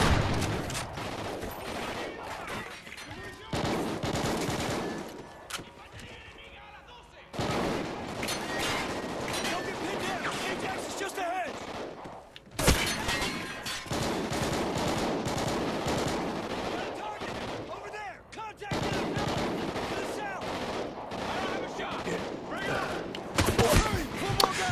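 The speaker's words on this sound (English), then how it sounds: "I'm trying, I keep getting shot at." Near-constant machine-gun fire and rifle shots in the shooter Call of Duty Ghosts, dense rattling bursts over about twenty-five seconds with brief lulls and heavy impacts, loud and close, with voices talking underneath.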